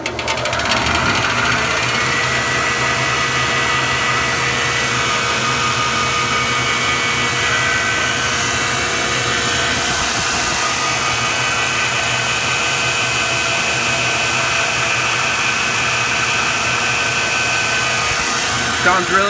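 Burr King Model 760 bench top grinder with a Baldor motor runs steadily at a loud, constant whine with a strong motor hum, continuous from start to end with no talk over it.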